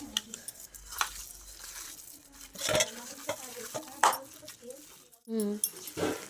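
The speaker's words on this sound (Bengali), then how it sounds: "এই ডাল বাটাটা আর কলা টলা যা কিছু দিলাম এই সব কিছুর সাথে কিন্তু এইভাবে ভালো করে চটকে চটকে কিন্তু একটু মেখে নিতে হবে" Ground matar dal paste and raw green banana mashed and kneaded together by hand, giving soft, irregular squishing and slapping sounds close by, with a voice talking over them.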